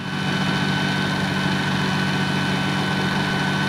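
A Vario MD-500E model helicopter engine runs steadily at flight RPM, a loud continuous drone with a strong low hum and a sustained high whine, close by and with no pauses.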